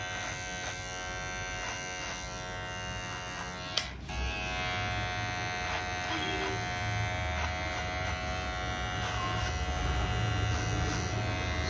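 An electric hair clipper run over a comb during a military haircut, a steady close buzz that continues throughout, with one sharp click partway through and no talk.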